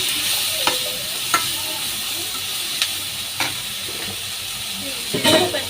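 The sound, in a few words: chili powder being stirred and fried in a pan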